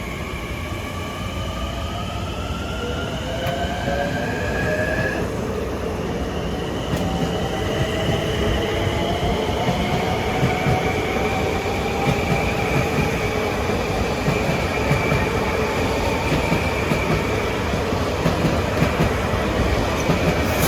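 A Long Island Rail Road M9 commuter train running through New Hyde Park station, a steady loud rumble of rolling stock with rising and falling wheel and motor whine throughout, no voices.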